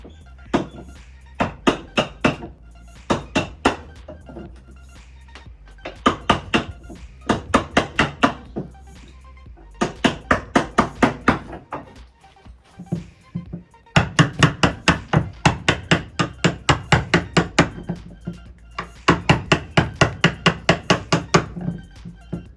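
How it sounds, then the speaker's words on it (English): A sharp chisel struck repeatedly with a mallet to clean up a wooden joint for a workshop beam, loud close knocks in fast bursts of several blows separated by short pauses, with no talk. "sharp chisel, just clean it up"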